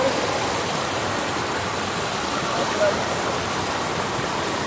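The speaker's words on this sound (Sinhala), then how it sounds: "මෙතන කැඩුන හින්දා වතුර ටිකක් බහලා යනවා." Water rushes steadily through a gap with a constant broadband roar, no breaks, close and moderately loud.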